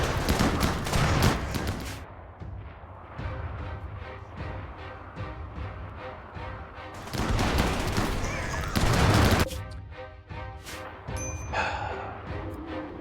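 Colonists shooting in RimWorld: dense bursts of rapid gunfire and volleys, loud and near, with brief pauses and swells and some scattered impacts toward the end.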